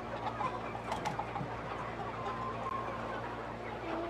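Chickens and roosters cluck and call at a busy chick market in a Tujia farming area, with brief scattered calls rising over a steady crowded background din.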